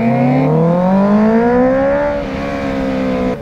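A Honda CBR 650 sportbike's engine and exhaust revving close by, a loud rising then easing engine note held for a few seconds with no talk.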